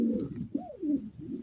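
Female pigeons coo in a short, low, throaty phrase, one rolling call close by with nothing else heard.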